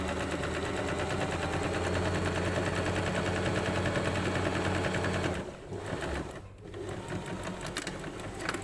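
Sewing machine stitching a plain seam, a fast steady mechanical rattle for about five seconds, then slower short bursts as it finishes with a reverse stitch, close and loud.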